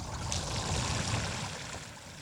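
Water runs from a Bambini sprayer after its water lever is switched on, a steady, close, broadband hissing rush that stays even throughout with no voices.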